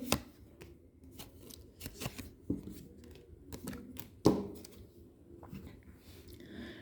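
Tarot cards are shuffled and drawn for an Aries horoscope reading, producing quiet, close papery flicks, slides and snaps in an irregular rhythm, with a few sharper slaps as cards are set down.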